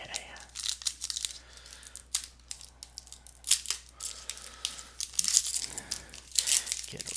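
Foil wrappers of NHL Upper Deck Extended Series hockey card packs torn open by hand, bursts of close crinkling and ripping scattered irregularly, with occasional quiet talking in between.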